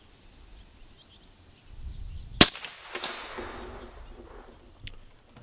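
A single sharp, loud shot from a CMMG Resolute AR-15 rifle in 350 Legend at an outdoor range, followed by a rolling echo, with quiet background noise before and after.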